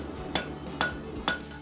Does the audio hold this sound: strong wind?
no